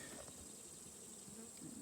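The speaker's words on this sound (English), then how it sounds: "old bees combining into a hive with new bees without killing each other" Bees hum inside a hive as old and new colonies combine, a faint, steady, close-up buzzing drone with no voices.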